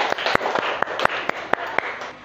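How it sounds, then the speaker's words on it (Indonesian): Students in a classroom clap for a presenting group, a sparse scatter of sharp, distinct claps at uneven intervals over a quiet room. "Tepuk tangan kelompok 2."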